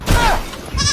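Short, close bleats from a goat, a wavering nasal cry that rises twice within about a second, loud and alone.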